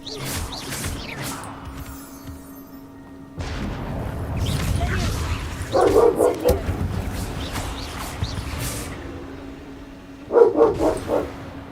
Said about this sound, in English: And my dog's saying hello.